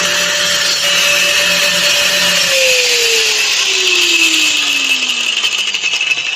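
An angle grinder whines loudly and continuously, its pitch holding steady and then sliding steadily downward as the motor spins down, with no speech over it.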